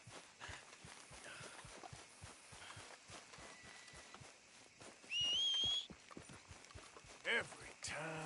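Steady rhythmic horse hoofbeats clip-clop at a walking pace in the video game Red Dead Redemption 2, with a brief whistle and a short voice partway through.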